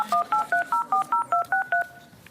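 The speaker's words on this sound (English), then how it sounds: "We can't figure out how to work the phone." A telephone keypad sounds on a live TV talk-show set, producing about nine crisp dialing beeps in a quick, even rhythm. The tones are loud and close, with a short quiet tail after the last one.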